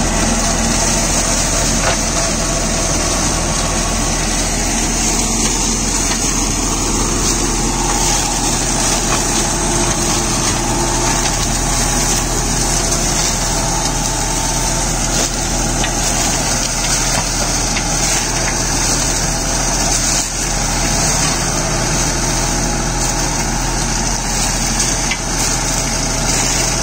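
A 2007 John Deere 5310 4WD tractor with its black engine, worn from 30,000 running hours, drives a belt-driven PTO load. It makes a loud, steady engine drone that holds unbroken throughout, with no voices.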